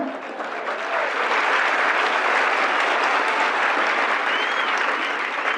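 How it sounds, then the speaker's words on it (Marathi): A large audience at a Marathi motivational talk breaks into loud, sustained applause, a dense continuous wash of clapping that swells and holds for several seconds with no speech. "टाळ्या वाजवताना मरेलवाणी वाजायच्या ना"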